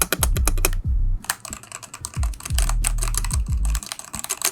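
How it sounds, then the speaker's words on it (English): Someone types fast and clicks hard on a mechanical keyboard fitted with Gateron Pro Black switches. The clatter comes in dense bursts, with deep thocks from the spacebar or stabilizers, and pauses briefly near the one-second mark. It is close and loud. "Currently the switches are the Gateron Pro Black, as you can hear."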